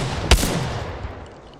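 Video game gunfire in a solo ranked match: one sharp, loud shot bursts out early, followed by a fainter report about a second later as the echo tails off, with no talking.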